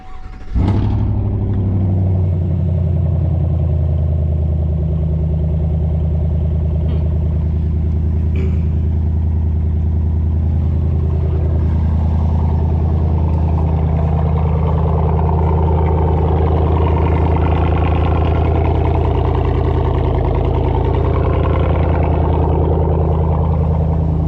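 A 2021 Chevrolet Silverado engine fitted with an S&B cold air intake cranks and catches with a sharp start, then settles into a loud, steady, deep idle with a faint rising intake note, close and alone.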